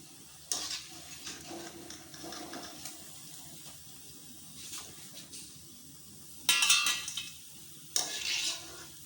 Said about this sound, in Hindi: अब हम इस तरह से सारे पकोड़ों को इस तरह से तल लेंगे।